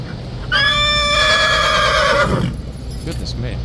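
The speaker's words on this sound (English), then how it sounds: "It's very rare actually that any of the horses here make that much noise." A King's Guard horse lets out a loud, close neigh lasting about two seconds, its whinny sliding downward at the end, with outdoor crowd noise around it and a voice briefly after.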